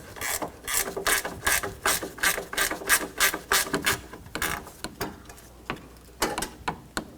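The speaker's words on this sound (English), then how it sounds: "10mm wrench" A 10mm ratchet wrench removes a bolt during an AC condenser replacement on a 2004-2009 Toyota Prius, giving a loud, close, steady run of rhythmic ratcheting clicks that slows and turns more uneven near the end.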